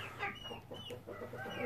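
Rhodebar rare-breed chickens, including a young pullet, cluck softly inside a coop, a string of quiet, irregular clucks and murmurs at close range.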